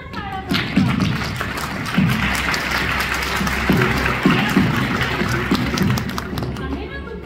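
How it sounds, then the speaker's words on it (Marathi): Children in the audience of a Marathi stage play clap loudly and continuously, with heavy thumps and stamping mixed in and voices heard through the noise. "मग जोरात टाळ्या वाजवा"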